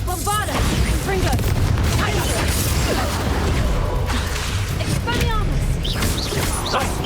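Reductor, Bombarda and Confringo spell blasts in the Hogwarts Legacy video game fire in a dense, chaotic flurry of booms, whooshes and crashes. Voices shout during the combat over a continuous roar.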